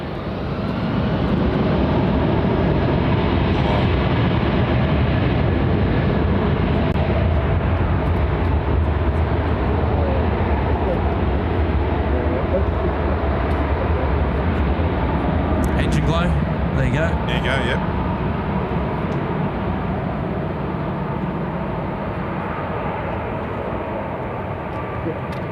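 A departing airliner at Sydney Airport roars loudly and continuously, close by and sustained throughout, with a brief faint voice partway through.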